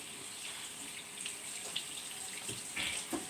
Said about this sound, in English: Of course, I'm gonna wash my board off.